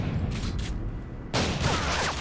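Akimbo Model 1887 lever-action shotguns fire in Call of Duty: Modern Warfare 2, a soft shot early on, then a loud, close blast at about the midpoint with ringing decay.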